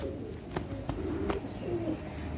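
Teddy pigeons coo softly a few times at close range, with a couple of sharp clicks and low background hum.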